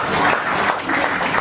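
Audience at a live stand-up comedy show bursts into brief, dense applause, a short close burst of clapping with no speech over it.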